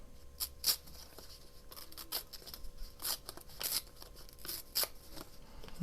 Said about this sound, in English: I'm just gonna tear some of this stuff down